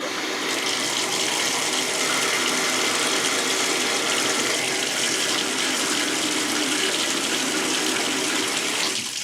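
Water runs steadily into a slow-draining tub and shower combo, a constant close rushing splash with no pauses and no talk.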